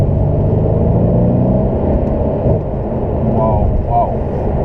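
A Mercedes CLA45 AMG engine heard from inside the car while driving, a loud, steady rumble with a brief dip in pitch partway through as the revs change.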